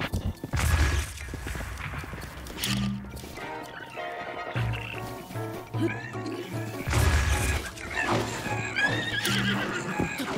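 Horses whinny and neigh repeatedly in The Legend of Zelda: Breath of the Wild, close and loud, mixed with clip-clop hoofbeats, thumps and crashes from a fight going on nearby.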